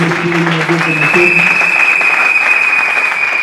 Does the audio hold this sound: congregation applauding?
yes